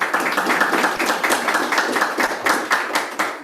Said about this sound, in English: The statement deserves a clap if you have understood.